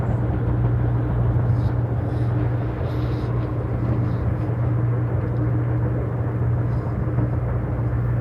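An Amtrak passenger train rolls along the rails through rural Massachusetts in late October, giving a steady, loud, low rumble that holds evenly throughout with no voices.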